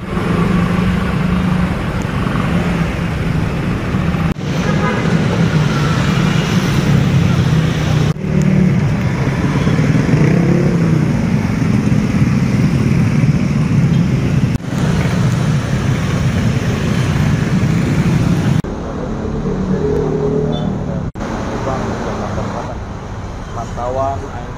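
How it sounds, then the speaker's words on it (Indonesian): Dense traffic of motorcycles and cars streams along Lenteng Agung and TB Simatupang roads in South Jakarta, a continuous loud roar of engines and tyres with passing revs and voices at times. "saat ini terpantau ramai cenderung padat oleh kendaraan roda 2 maupun roda 4"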